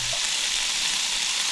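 Grouse meat, bacon and mushrooms frying in a pan at a camp, a steady close-up sizzle with fine crackling, continuous and unbroken.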